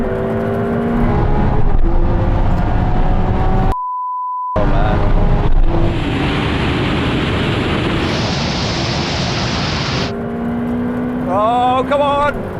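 Ferrari 488 Pista and Porsche 911 Turbo S drag racing, heard as loud, steady engine roar and wind rush from inside a car, with rising gear-change tones, a brief muted gap, and someone talking over it.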